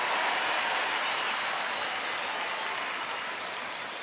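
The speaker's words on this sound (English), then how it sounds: "that draws a pretty good ovation from the crowd" A baseball stadium crowd gives an ovation for a Rangers pitcher, a dense, steady wash of applause and cheering that fades slightly toward the end.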